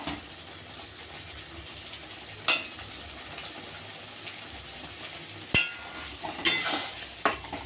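Onion and garlic fry in a pan as a quiet, steady sizzle, broken by a few sharp clinks and scrapes of stirring near the start and in the final seconds.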